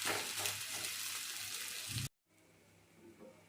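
Food frying in a pan right after being flipped, a loud steady sizzle for about two seconds before cutting off to a quieter low bubbling.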